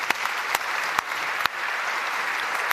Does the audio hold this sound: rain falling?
no